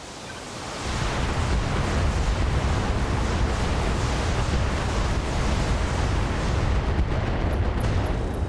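A salvo of improved MRM missiles fired in the mech combat game RogueTech, a loud, dense, continuous rumbling roar that kicks in after a short lead-in and holds steady to the end, with no voices.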